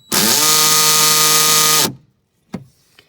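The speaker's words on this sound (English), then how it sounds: "We're gonna basically just drill right into there" A hole saw on a power drill cuts into the hull of a Bass Raider 10E boat to fit a drain plug, a loud steady whirring drone for nearly two seconds that stops abruptly, followed by a couple of sharp knocks.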